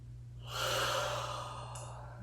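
A single deep, slow breath during a chair yoga session, a soft airy inhale or exhale that swells and fades, heard close and quiet over a low hum.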